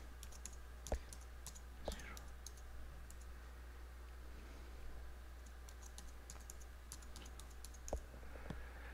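Someone types a password on a computer keyboard: a quiet, irregular run of sharp key clicks with a few louder taps, set over a steady low electrical hum, and no talking.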